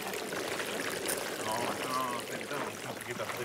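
Water pouring steadily from an illegal pumping station on a farm in Spain, a continuous, fairly faint rushing trickle that stays constant throughout with a broad hiss and no breaks.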